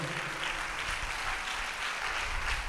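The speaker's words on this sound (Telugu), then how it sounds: "చప్పట్లు కొట్టి దేవుడు మహిమపడదాం గట్టిగా" A church congregation claps together in a dense, sustained burst of applause, steady and loud throughout without a break.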